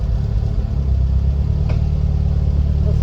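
Engine of a 1956 Triumph TR3 sports car pulling away, a steady loud low rumble throughout with a brief clattering note partway through, close to the listener.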